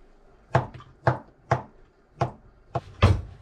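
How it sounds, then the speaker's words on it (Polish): Six sharp knife chops through a carrot on a cutting board, evenly spaced, close and crisp, with a slight pause before the last two. "korzystam z okazji, pokroję marchewkę."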